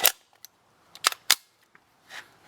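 A Tippmann M4 paintball gun firing a few sharp, snappy shots in an irregular rhythm, with a couple of fainter pops and a soft trailing hiss, close by and with no voices.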